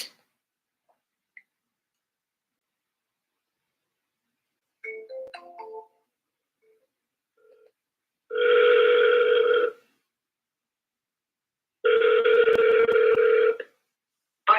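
A cell phone call rings out on a phone line during real estate cold calling: two long, steady electronic ring tones, each lasting about a second and a half, separated by a few seconds of silence, clear and close.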